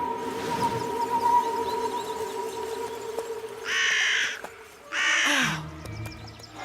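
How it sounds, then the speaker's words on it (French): Two loud, harsh crow caws close by, one after another, over a busy backdrop with a steady tonal hum. "C'est Micmac le corbeau."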